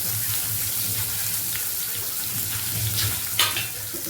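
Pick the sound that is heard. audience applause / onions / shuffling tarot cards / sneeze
onions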